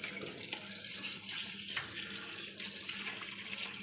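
Tap water runs steadily into a sink to soak freshly picked egg greens from a home courtyard, a continuous close splashing flow lasting the whole stretch without pause.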